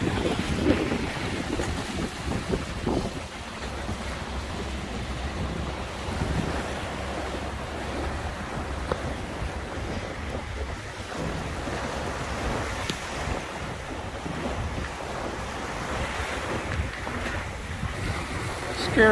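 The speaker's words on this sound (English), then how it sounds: "We are currently sailing under the Mackinaw Bridge at about 10 knots of wind." A sailboat passes beneath the Mackinaw Bridge in about ten knots of wind, with steady washing waves and wind rush on the microphone filling the whole stretch at an even, moderately loud level.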